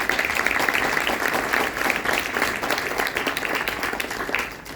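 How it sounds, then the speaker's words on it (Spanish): Applause from the audience at a political panel discussion on institutional strengthening, a loud and steady wash of many hands clapping together that carries on at full strength throughout. "Un aplauso para ellos."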